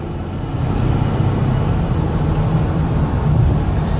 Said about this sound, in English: My goal is here for you to hear the engine run strong.